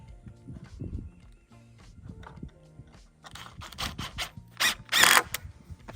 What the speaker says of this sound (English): Screw that one in.